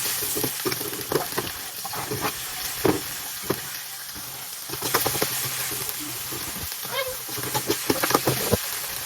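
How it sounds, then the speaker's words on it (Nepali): Momo filling with onion going into hot oil, a continuous close sizzle and crackle with repeated scraping stirs against the pan, lively and steady throughout. "मैले चाहिँ यहाँ किमालाई फ्राई गर्न लागेको छु।"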